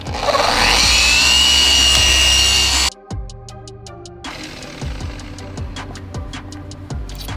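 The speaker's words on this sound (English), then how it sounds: "You can use a nice polish with a heavier pad and get your deep," A Rupes polisher runs loud and steady, buffing Mercedes GL450 paint with ultra fine polish on a heavier pad. It cuts out abruptly partway through, leaving a quieter stretch of rhythmic clicking and handling noise.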